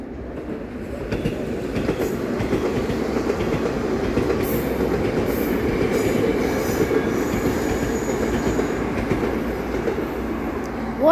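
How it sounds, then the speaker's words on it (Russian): A metro train rumbles past in a tunnel between Kuntsevskaya and Molodyozhnaya stations, with a continuous low roar, rhythmic clatter of wheels on rails and faint squealing, heard from nearby without any talk. "Слышу звук поезда"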